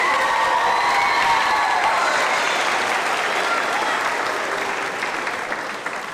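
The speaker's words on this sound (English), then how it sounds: "let's give our teachers another big round of applause" An award-show audience gives a big round of applause for teachers, dense and loud clapping with some cheering that slowly fades toward the end.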